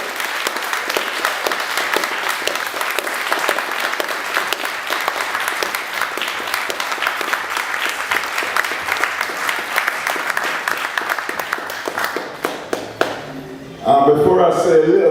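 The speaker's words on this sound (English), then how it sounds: "deserves a massive applause and congratulations" Sustained applause from a large audience, dense steady clapping that fades near the end, where a voice begins speaking.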